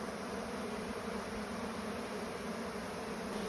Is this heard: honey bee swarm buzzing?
yes